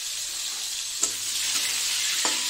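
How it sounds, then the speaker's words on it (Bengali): Potatoes sizzle steadily in hot oil in a pan, a close, even hiss broken by a couple of soft stirring knocks, with no talking. "আলুটাকে একটু লাল লাল করে ভেজে নিই।"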